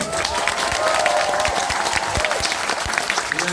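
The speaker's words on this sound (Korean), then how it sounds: "박수를 많이" Audience applause fills a large auditorium at a political talk concert in Bupyeong-gu Office, Incheon: steady, dense clapping with a few heavier thumps and faint tonal sound beneath.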